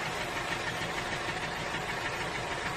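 Tractor engine running at a steady idle, a continuous rumbling drone with an even loudness and no voices over it.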